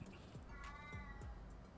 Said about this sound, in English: And my cat is complaining.